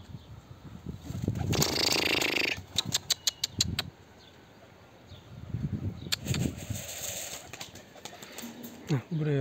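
Pigeons taking off and flying from a rooftop loft, with bursts of wing flapping and quick clattering wingbeats, while someone talks nearby between the flurries.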